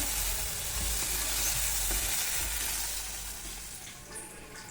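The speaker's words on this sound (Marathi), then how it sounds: "तर वाटाणा छान असं भाजून घेतलं बघा" Dried peas roasting in a hot pan while being stirred give a steady, close sizzle with scraping stir sounds, easing slightly toward the end, with no talking.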